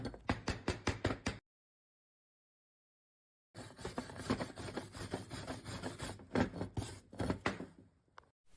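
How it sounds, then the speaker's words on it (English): A chipping hammer and wire brush clean slag off an E6011 arc weld bead, making quick rhythmic scraping and rasping strokes in close bursts. A silent gap separates the bursts, and no one speaks. "Clean your bead by using a chipping hammer and a wire brush to remove any slag."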